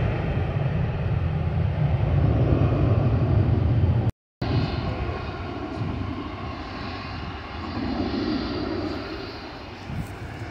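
A JetBlue Airbus A320 jet roars past near Fort Lauderdale Hollywood International Airport runway 10R, a loud broad engine rumble that stays strong, briefly cuts out, then returns and slowly thins.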